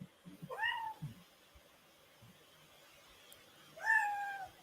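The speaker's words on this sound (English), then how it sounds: "You can hear him meowing." A pet cat meows twice indoors, one drawn-out call near the start and another near the end, both fairly close and clear over a quiet room with faint handling noises between them.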